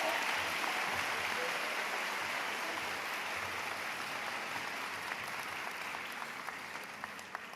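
Graduation audience at a high school commencement claps in a steady, dense wash of applause. It is fairly distant and soft, sustained throughout and slowly tapering, with occasional sharper individual claps standing out near the end.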